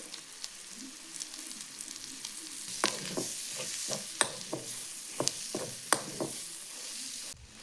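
Prawns fry in a black masala and are stirred, with a steady close sizzle and a series of sharp scraping strokes of the spoon against the pan coming in an uneven rhythm.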